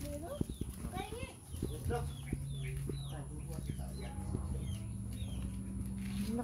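Chickens cluck and call at a Batangas farm near a laying coop, with short bird calls scattered over steady low background noise while people talk nearby.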